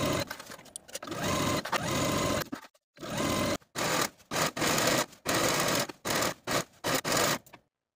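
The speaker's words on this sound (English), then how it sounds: "Sew both of your side seams with a 3/8 inch seam allowance" A sewing machine stitches the side seams of a party dress in repeated bursts of fast, buzzing whir, each lasting a second or two and separated by short pauses, close and loud with no talking.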